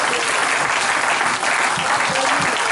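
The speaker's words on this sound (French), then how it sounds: "Donnons une acclamation au Seigneur" Loud, dense applause fills a church service as the congregation gives an ovation during a sermon, a sustained roar of many hands with no pauses.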